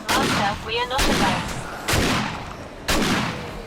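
Gunfire in 7 Days to Die rings out as three loud, evenly spaced shots, each with a lingering echoing tail, while someone talks between them.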